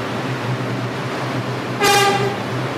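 A New York subway line 6 local train in a mobile train simulator game sounds one short, loud horn blast over a low, steady rumble of the cab.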